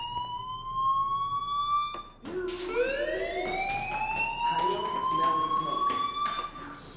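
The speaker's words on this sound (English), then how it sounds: "Hey, do you hear that fire alarm?" A fire alarm sounds in Life is Strange with long, steady electronic tones that break off, then rise and sweep again like a siren. The alarm stays loud and continuous over a low background rumble, and voices talk beneath it.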